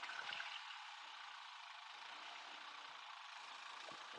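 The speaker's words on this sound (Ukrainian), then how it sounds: "Все, генератор завівся." DENQBAR DQ-3800 inverter generator running just after being pull-started, a steady loud mechanical hum holding evenly throughout, with no talk over it.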